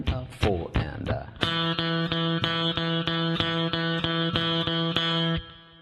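Electric guitar playing a run of evenly spaced eighth note triplets after a few opening notes, a steady, clear rhythmic pattern at moderate volume with no one talking.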